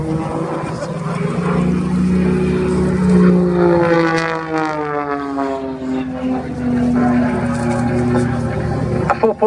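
An Extra 330 aerobatic plane flies display manoeuvres at an air show, its propeller engine droning and shifting pitch in rising and falling sweeps, loud and near, with a commentator talking over it.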